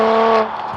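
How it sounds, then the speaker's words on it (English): A BMW M2 Competition fitted with a loud Milltek equal-length exhaust roars with a strong, tonal drone that holds steady, then drops off sharply partway through and settles into a quieter rumble. "And all sorts of loud and beautiful noises are coming out of the back of this car."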